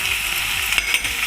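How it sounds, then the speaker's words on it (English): Onions frying in a mixture of oil and ghee for a prawn curd gravy, a steady close hissing sizzle with faint stirring scrapes and no talking. "Fry the onions."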